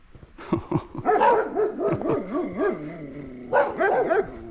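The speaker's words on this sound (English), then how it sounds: "Those dogs were looking down on me. They were ready to go." Several dogs on a rural rail trail near Lincolnton, North Carolina bark and yip excitedly nearby, a rapid overlapping burst with whining howls, then a second flurry of barks after a short pause.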